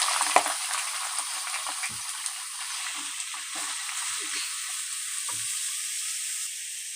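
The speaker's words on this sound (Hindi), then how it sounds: "अब हम सब्जियां फ्राई करेंगे।" Carrots fry in hot ghee in a kadhai with a steady, bright sizzle, broken by soft clinks and scrapes of stirring, and no voices.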